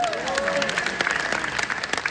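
Audience applause during a business conference lecture, a steady spread of clapping at moderate level with voices mixed in and a tone sliding through the middle.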